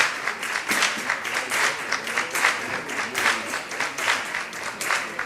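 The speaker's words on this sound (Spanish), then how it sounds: "que levantan ahora esos aplausos por la ciudad" A crowd applauding after a proclamation speech at a San Sebastián festival event in Huelva, steady rolling clapping with gentle swells, heard from a moderate distance.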